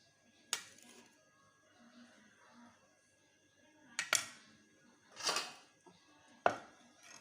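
A few sharp knocking and pounding strikes of chili in a mortar land at irregular intervals, with quiet gaps and faint background murmur between them.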